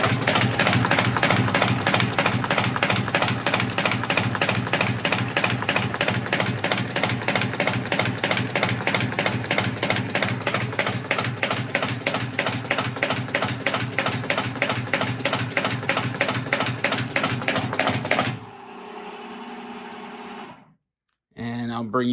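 An MBM 208J manual tabletop paper folder running on its high setting gives a fast, steady mechanical clatter, a rapid even rhythm held for about eighteen seconds before it winds down, briefly goes silent, then resumes.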